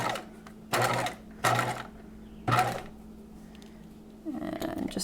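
A sewing machine stitches a bodice seam in three brief bursts, followed by a longer softer run of stitching at the end, all close up over a low background hum.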